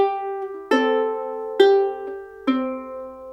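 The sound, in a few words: fingerstyle ukulele playing the second bar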